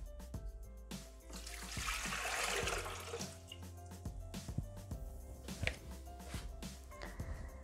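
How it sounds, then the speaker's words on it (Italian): Water pours into a Thermomix jug at the start of a lemon tea syrup recipe, a steady splashing gush that swells and then trickles with small clatters, close by with no talking. "Iniziamo la ricetta mettendo all'interno del boccale l'acqua."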